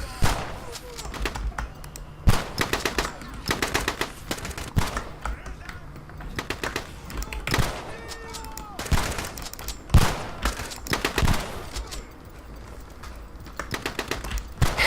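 Shotgun and other gunfire in the video game Shots Fired: Overkill, repeated sharp shots at uneven intervals over a busy game soundscape with music.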